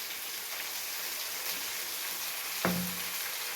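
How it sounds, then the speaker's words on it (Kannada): Onions frying in a pan for sabbakki uppittu, a steady crackling sizzle that runs throughout at moderate level, with one brief louder clank of a utensil near the end. "ಈರುಳ್ಳಿ ಚೆನ್ನಾಗಿ ಫ್ರೈ ಆಗೈತೆ."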